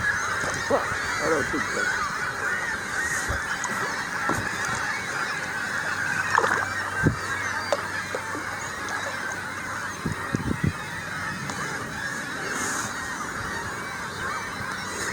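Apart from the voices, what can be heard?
seagulls calling on the Ottawa River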